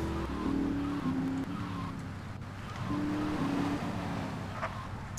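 Race cars in GTA III roar through a street race, engines revving and shifting pitch with brief tire squeals, loud and continuous with no talk.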